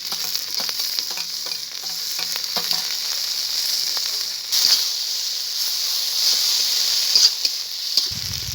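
Garlic paste, green chili paste and chopped tomato sizzle loudly in hot oil, a steady bright hiss with scattered crackles and a few stirring scrapes, heard alone.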